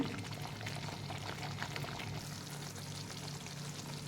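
A ground cashew and coconut paste is poured into a boiling chicken gravy, giving a soft, continuous pouring and bubbling sound, quiet and close, with no one talking.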